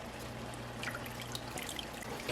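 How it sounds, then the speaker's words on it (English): Water is poured into a bubbling pan while making crustless pot pie, giving a soft continuous trickle and splash over a low hum, fairly faint and without talk. "now we're going to add the water"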